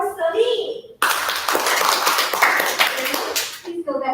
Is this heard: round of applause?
yes